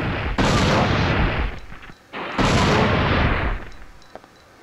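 Two loud, dense bursts of gunfire from a weapon in the survival horror game Dino Crisis 2, each followed by a short ringing decay. No one talks over the shots.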